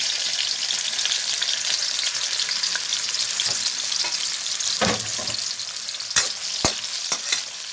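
Chicken fried rice with carrot, onion and tomato sizzles steadily in a pan, with several sharp scraping stirs of a utensil near the end.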